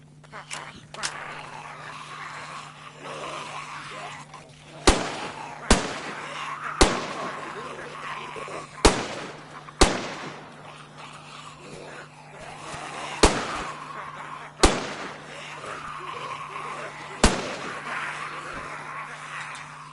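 Repeated gunfire against zombies in the video game DayZ: about a dozen sharp, loud shots in irregular bursts, separated by pauses, over a constant low background hum and occasional speech.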